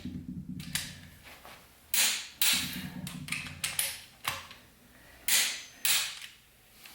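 Engine head bolts being tightened to 100 foot-pounds with a wrench, giving a series of creaking, grinding clicks in short bursts, close up with steady low background hum.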